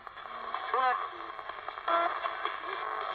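Ghost-hunting spirit box sweeping radio stations, producing a continuous crackling static wash with brief bursts of garbled broadcast fragments, moderately faint.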